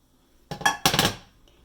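Cooked asparagus spears set onto a plate in a home kitchen, giving two quick clattering knocks of food and utensil against the dish, close and fairly faint, with a quiet pause before and after.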